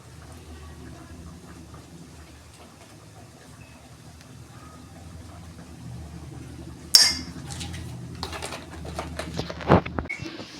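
A spoon scoops gram flour (besan) into a bowl for vegetable pakoras, with a sharp clink followed by several lighter metallic taps and scrapes against the bowl after a quiet stretch.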